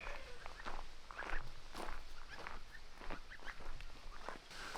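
On a farm, footsteps walk along with a group of ducks trailing behind in a parade, the steady steps mixed with faint, scattered quacks and rustling at a moderate distance.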